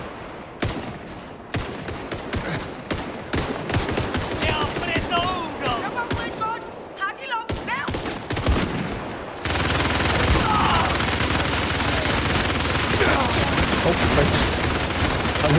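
Bursts of gunfire fill a combat scene in Indiana Jones and the Great Circle, shifting from rapid scattered shots into a dense, continuous barrage, with someone briefly speaking over it.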